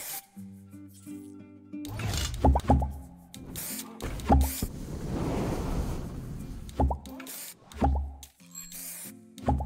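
A playful bubble effect from the parking game You Suck at Parking plays out as a string of soft plops and bubbly pops over cheerful game music, with a fizzing stretch in the middle.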